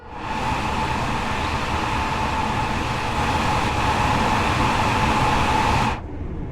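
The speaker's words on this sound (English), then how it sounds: "Some of the train sound effects go very Dopplery at times." A train in the Train Sim World 5 video game gives a loud, steady rolling rumble with a sustained tonal whine, then cuts off abruptly near the end, with no one talking.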